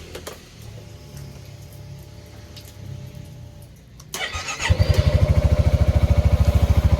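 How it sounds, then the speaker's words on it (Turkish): A Yamaha Xmax scooter idles quietly, then its engine cranks and catches around the four-second mark and settles into a loud, steady, rapidly pulsing run close to the microphone. "Evet şimdi motorumuzu çalıştıralım."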